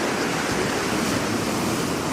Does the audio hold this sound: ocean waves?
yes